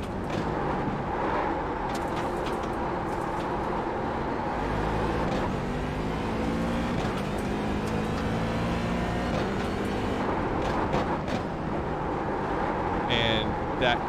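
A Corvette C7 DP race car laps a track, its engine droning steadily with rising and falling pitch through gear changes, under a voice talking throughout.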